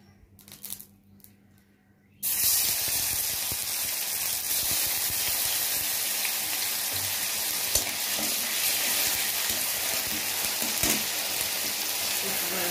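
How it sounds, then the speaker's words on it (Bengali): Onion and garlic paste hit hot frying oil for dried fish with vegetables, bursting into a loud, steady sizzle after a quiet moment, then hissing on without pause, close by. "এই তেলটার মধ্যে আমি পেঁয়াজটা আর এই রসুন বাটাটা দিয়ে দেবো।"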